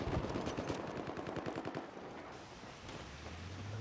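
Rapid automatic gunfire from the video game Battlefield 4 rattles continuously and loudly, with bursts of machine-gun shots packed closely together.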